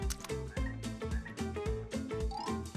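A frog croaks loudly and close by in a fast, regular rhythm of repeated pulsing calls. The croaking carries on without pause and no talk is heard over it.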